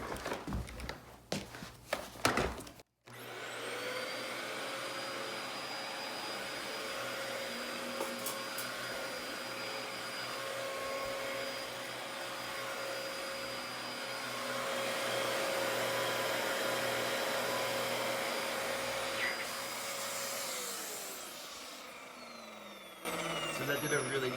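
A Dyson D14/D33 vacuum cleaner, just after its filter has been cleaned, switches on and runs steadily. It gives a loud, high whine that holds for about seventeen seconds before it winds down, with clattering handling noise at each end.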